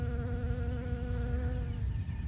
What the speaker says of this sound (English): Oh, look, there's a bee on my delicata squash.